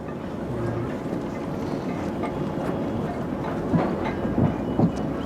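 A train rumbles steadily along, with faint rhythmic clacks of wheels over rail joints under the constant roar.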